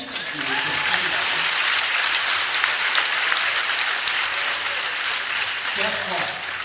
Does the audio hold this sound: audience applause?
yes